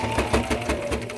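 Sewing machine stitching through many layers of fabric while sewing mask tie casings, a fast steady mechanical chatter of repeated needle strokes, close and fairly loud throughout.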